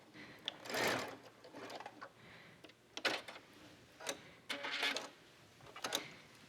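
Sewing machine stitching a dart in a jacket, short whirring bursts of rapid needle stitching separated by brief pauses, close and fairly quiet.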